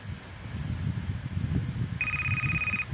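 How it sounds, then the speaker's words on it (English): Partway through, a phone starts ringing with a steady electronic tone over a low background rumble. "My phone's ringing."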